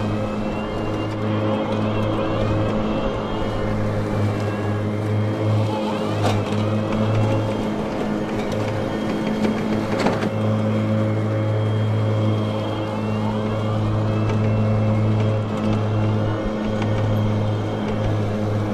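An EGO Z6 52-inch 56-volt electric zero-turn riding mower runs with blades spinning, a loud, steady droning whir with slight wavering pitch, continuous and close throughout, with a couple of faint clicks.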